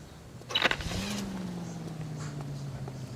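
Car driving in LA Noire, a low steady engine drone with a brief rising rev near the start, continuing evenly beneath faint background sound, no talk.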